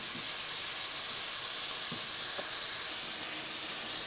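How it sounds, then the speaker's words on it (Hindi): Masala and fresh tomatoes fry in a pan with a steady, loud sizzle and a continuous hiss, plus a few faint stirring knocks and no voices. "5 मिनट के लिए हम भूनते हैं इसे, ताकि अच्छे से हमारे टमाटर भी गल जाए"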